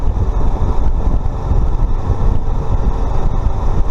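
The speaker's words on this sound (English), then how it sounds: "Taking a ride on the Honda Trail 125." A Honda Trail 125 motorcycle rides along on a warm, sunny morning in Ormond Beach, Florida, its steady engine drone blended with heavy rushing wind across the microphone, continuous and loud with no voices.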